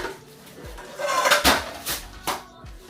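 Metal pot clanking as it is pulled from a kitchen cupboard, a few scattered knocks and scrapes with a couple of louder clangs, fairly close and moderately loud.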